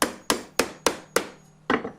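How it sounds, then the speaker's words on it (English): Hammer blows drive a nail into wood on a simple birdhouse: six sharp, ringing strikes at a steady pace, with a brief pause before the last, close and clear with no talk. "So here we go, nail that in."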